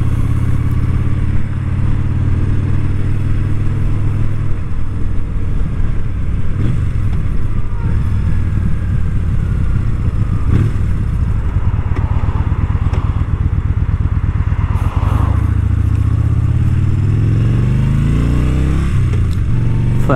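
Yamaha Bolt R Spec motorcycle engine droning steadily and loud while riding, with rising and falling revs through gear changes and constant wind rumble throughout.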